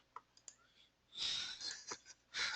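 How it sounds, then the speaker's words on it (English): Keyboard typing during a video call, faint scattered clicks followed by bursts of denser, brighter clatter, slightly distant and compressed. "somebody is typing"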